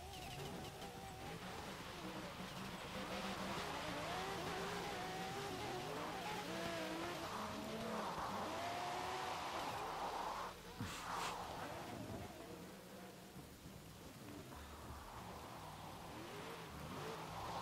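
Subaru BRZ drifting downhill in the Forza video game, with a steady engine roar and wavering tire squeal throughout, loud and close, with faint voices in the background.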